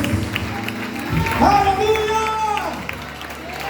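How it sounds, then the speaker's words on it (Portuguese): Church congregation applauding during a Sunday morning service, a dense wash of clapping mixed with cheering voices and an exclamation, with music sustaining underneath. "Aplauda ele bem forte nesta manhã"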